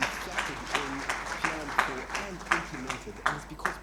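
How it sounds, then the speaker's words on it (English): Audience at a winter school session in Victoria Falls applauding a speaker, a steady wash of moderately loud clapping from a crowd with voices mixed in throughout the short stretch. "Let's give a big round of applause to Mr."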